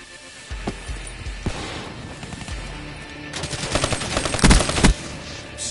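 Rapid bursts of automatic gunfire from a Black Ops 3 multiplayer Team Deathmatch match, close and loud, with clustered shots building toward a dense volley near the end.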